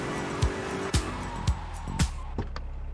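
Car in GTA Vice City driven fast, with a few sharp skid or impact bursts roughly every half second over a steady low engine rumble, close and loud.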